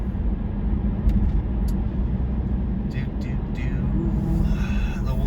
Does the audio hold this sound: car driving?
yes